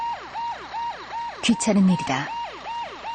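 A wailing emergency siren in a Korean radio drama about a drunk-driving chase at night, cycling in steady rising and falling sweeps while someone speaks briefly over it midway.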